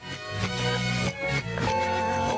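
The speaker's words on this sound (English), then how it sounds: "identify the following tunes that are being played backwards" Dense, continuous music with a warped, reversed feel: swelling chords and sustained tones that seem to fade in rather than decay. A song played backwards.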